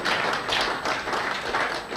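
Audience applause at a Guild of Corporate Online Publishers event welcoming an honoured guest, a steady dense patter of many hands clapping throughout at moderate, even loudness.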